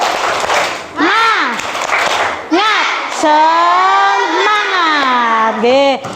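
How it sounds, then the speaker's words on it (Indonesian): Indonesian schoolchildren in a classroom perform a 'tepuk semangat' spirit clap, their chanted voices rising and falling in loud, sustained group calls over scattered clapping, all close by. "Ya tepuk semangat dulu, tepuk semangat."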